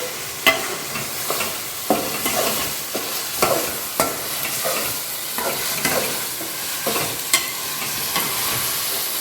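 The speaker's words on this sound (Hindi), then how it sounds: "अब ये टमाटर को अच्छा पकने देना, पूरा जैसा बनना कि पेस्ट बन जाना।" Tomatoes cooking down into a paste in a pan for a mutton dish, with a steady close sizzle and repeated scraping stir strokes of a spoon against the pan at a loose rhythm, no voices.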